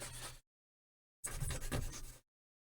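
Very fine sandpaper rubs over rough edges, two close bursts of dry, gritty scratching separated by a pause of silence.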